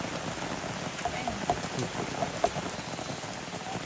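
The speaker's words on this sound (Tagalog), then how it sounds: "Silong muna kami mga kagala kasi nabutan kami ng ulan" Rain at Enchanted Cave in Pangasinan, a faint steady patter of drops on surfaces with a few slightly louder individual plinks.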